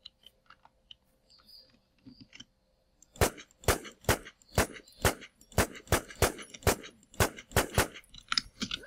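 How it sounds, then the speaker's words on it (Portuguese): Silence broken by faint shuffling, then a steady run of about a dozen sharp gunshots in the video game Infestation: The New Z, evenly spaced and fairly loud. "Mais um tiro, galera."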